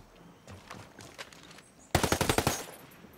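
Hostiles open fire in Ghost Recon Breakpoint: faint scattered distant shots give way to a loud, close rapid burst of about eight rounds, then trailing off.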